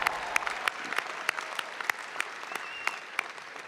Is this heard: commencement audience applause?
yes